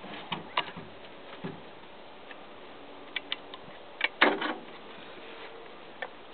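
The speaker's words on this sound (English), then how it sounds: "with your bar wrench, take off these two nuts on the sprocket cover." A bar wrench loosens the two nuts on a chainsaw's sprocket cover, giving sparse, quiet metallic clicks and taps at irregular intervals over a low background, with no talking.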